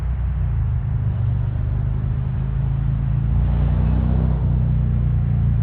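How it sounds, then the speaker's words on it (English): Heavy road traffic rumbles continuously, a loud, steady roar of passing vehicles with no break. "Loud traffic."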